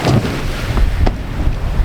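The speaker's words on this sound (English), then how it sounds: "the wind has just picked up" Steady wind roaring and buffeting over a sailboat at sea, with low rumble and water wash running continuously and fairly loud throughout, no voices.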